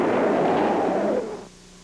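Explosions from army tanks and bazookas in an old monster film soundtrack, one heavy rumbling blast that rolls and fades over a couple of seconds, loud and dense with no voices.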